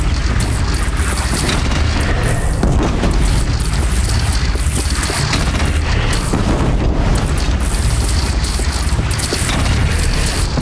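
A bridge in Horizon Zero Dawn is shot down and explodes, giving a loud, continuous roar of blasts and collapsing debris that fills the whole stretch, with rumbling booms rising and falling and no speech.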